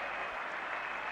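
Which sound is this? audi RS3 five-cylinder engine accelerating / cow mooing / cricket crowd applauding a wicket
cricket crowd applauding a wicket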